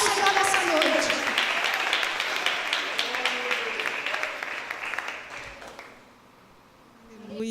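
A congregation at a women's church conference applauding in a dense wash of clapping with voices mixed in, loud at first, then fading to near quiet before rising again at the end.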